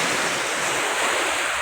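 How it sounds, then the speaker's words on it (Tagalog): Big waves break and roll onto the shore at Ilijan, Batangas, a steady broadband roar of surf with wind over the microphone, loud and continuous throughout with no voices. "Kaya lang pagdating po sa gilid, ang lalaki po ng gulong."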